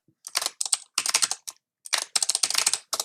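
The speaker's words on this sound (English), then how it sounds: "Okay, let's type that correctly." Someone types quickly on a computer keyboard, close and clear, in two short bursts of rapid clicking keystrokes separated by a brief pause, with no speech.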